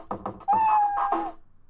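Scratch cat meow sound effect, a short close cartoon-style meow with a couple of quick preceding chirps and a drawn-out middle, playing alone and ending abruptly.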